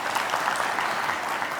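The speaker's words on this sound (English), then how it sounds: "It's a round of applause for him." Audience at a tax summit in a conference hall applauds, brief steady clapping from many hands filling the room.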